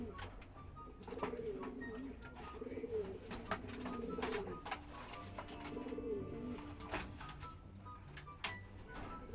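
Taiwan pigeons coo in low, repeated rolling phrases, fairly close, over a faint background with scattered clicks and rustles.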